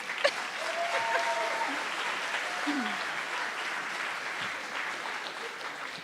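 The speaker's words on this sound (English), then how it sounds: "let's give the pre-concert a big round of applause" Audience applause at a school district jazz festival concert, steady dense clapping from a crowd filling the room at moderate level, with faint whistles and brief voices mixed in.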